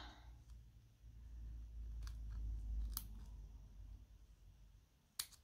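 Quiet snips of scissors cutting a small paper embellishment: a few soft clicks, then a sharp cut near the end over low background rumble, with no talking.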